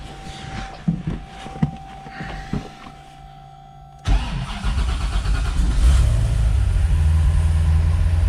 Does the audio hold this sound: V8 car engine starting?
yes